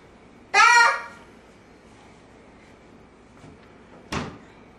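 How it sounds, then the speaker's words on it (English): A child opens and closes a door and a drawer. The clip has a loud bang-and-scrape near the start, a soft knock later, and a second sharp thud near the end, with quiet between them. "leave Mommy's door shut, drawer shut."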